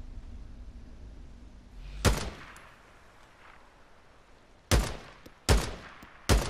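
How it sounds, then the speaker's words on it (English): Sniper rifle fire in the video game Days Gone: a single sharp report, then three more shots spaced about a second apart, each loud and echoing over a quiet game backdrop. "Well, he's got a sniper rifle"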